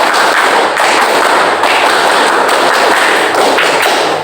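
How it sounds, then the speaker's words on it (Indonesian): A class claps out the tepuk Pramuka scout rhythm in unison: loud, close, sharp clap patterns repeating over a few seconds without voices. "kita semangatkan dulu dengan cara kita tepuk pramuka"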